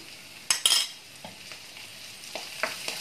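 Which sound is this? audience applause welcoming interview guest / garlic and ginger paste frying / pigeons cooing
garlic and ginger paste frying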